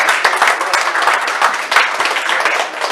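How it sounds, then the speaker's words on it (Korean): Applause from a small audience at a panel discussion on safe living environments for visually impaired people, fairly close with individual claps distinct in a quick, uneven patter throughout. "토론 진행해주신 좌장이와 토론자 여러분께 다시 한번 큰 박수 부탁드리겠습니다."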